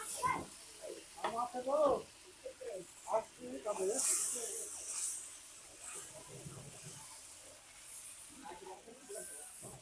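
Bhuna masala spice paste heating in a pan for duck kala bhuna, a soft sizzle and hiss rising under a person talking through most of the stretch.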